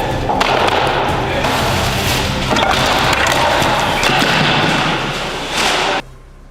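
A heavy foil ball crashes through a gypsum board house, a loud continuous rush of cracking, splintering and thudding debris lasting several seconds before cutting off abruptly.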